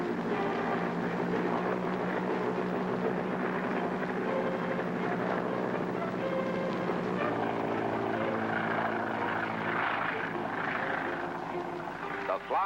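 A four-engine Boeing B-17 Flying Fortress bomber takes off in an old wartime film, a steady loud propeller roar filling the whole stretch, with a narrator speaking over it.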